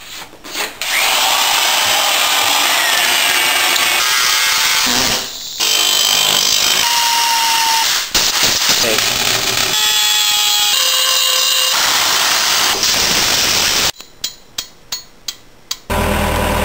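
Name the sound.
half inch Milwaukee right angle drill drilling wood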